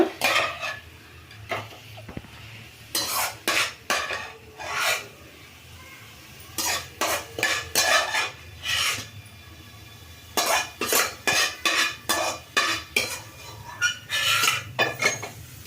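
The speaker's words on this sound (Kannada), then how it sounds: "ಈಗ ಮಶ್ರೂಮ್ ನೋಡಿ ಫ್ರೈ ಆಗಿದೆ ನಾನು ತೆಗಿತಾ ಇದ್ದೀನಿ ಪ್ಲೇಟಿಗೆ" Fried mushrooms being scooped out of a frying pan onto a plate, heard as bursts of loud rhythmic scraping of a utensil against the pan, separated by quieter pauses.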